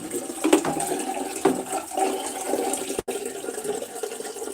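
Water running continuously into a container as it is drawn for heating, a steady splashing flow with a brief dropout partway through, no voices.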